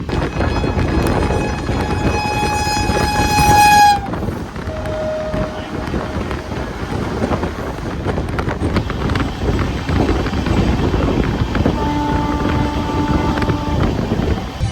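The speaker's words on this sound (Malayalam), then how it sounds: "ലോക്കോ പൈലറ്റ് നല്ല ഹോൺ അടിച്ചാണ് മുന്നോട്ട് പോകുന്നത്" A train horn blows a long, loud, sustained blast in fog, then sounds again more softly later, over constant rumbling and wind noise, on the Kacheguda–Mysuru Superfast Express.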